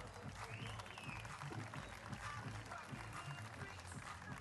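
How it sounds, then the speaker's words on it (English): Faint, distant applause ripples through the crowd at a Florida Open beach volleyball tournament, a soft, continuous patter of clapping lasting several seconds. "How about a round of applause for Lauderdale?"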